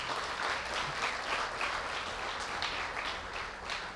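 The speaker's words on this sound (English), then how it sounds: "I want all the parents to give a big round of applause to all these kids." Parents applauding graduating Grade 7 pupils at a school farewell luncheon in Lusaka, a steady dense round of clapping that holds evenly throughout with no talk.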